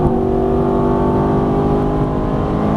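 Loud, sustained engine drone from a Ferrari F430 pulling through another upshift on a track, heard close and continuous with no voices.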